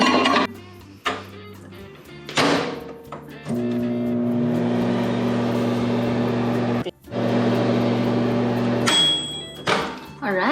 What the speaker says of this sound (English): It's time to go in the microwave.